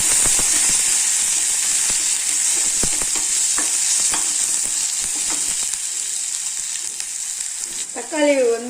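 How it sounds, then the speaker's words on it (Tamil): Ginger, tomato, dried red chilli and curry leaves sizzle and fry in a pan for a village-style raw banana fry, with a steady hiss broken by repeated scraping stirs and a brief clatter near the end. "அதுக்கப்புறம் தக்காளி, வரமிளகாய், கருவேப்பிலை இதெல்லாம் போட்டு ஒரு வதக்கலாங்க."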